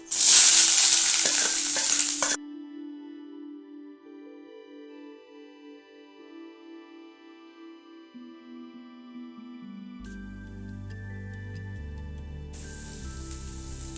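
Chopped onions drop into spluttering mustard seeds in a hot pan, making a loud burst of frying for about two seconds before it gives way to soft melodic music.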